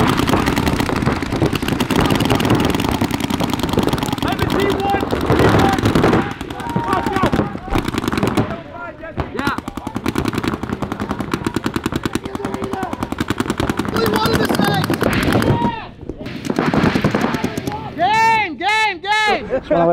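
Paintball markers fire in long, rapid bursts during a pro practice on an outdoor field, a dense, loud rattle that runs almost without a break, with people shouting and talking over it.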